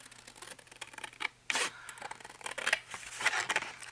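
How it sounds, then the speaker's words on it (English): Big Tim Holtz scissors snipping through a vintage postcard, a series of close, dry crunching cuts with short pauses between strokes, no talking. "I'll pull out my big giant scissors"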